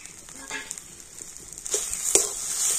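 Potatoes frying in a pan with spices sprinkled in, a steady sizzle with a few stirring scrapes and louder bursts near the end.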